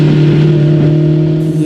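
A hybrid Porsche 911 sports car, its most powerful series-production version at 711 horsepower, sends out a loud, steady engine hum with strong low harmonics for under two seconds, close up and alone.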